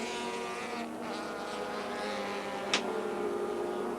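Car number 35, driven by Alan Jones at Wanneroo in a 1993 touring car heat, roars with a sustained high engine whine as it climbs a hill, steady and loud, with a brief sharp click partway through.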